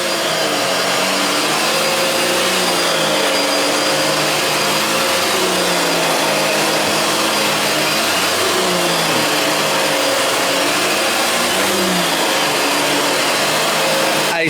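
A rare Fantom Cyclone XT vacuum cleaner with a single Cyclonic logo runs steadily and loudly, a constant broadband roar with a slight wavering hum, heard alone without talk.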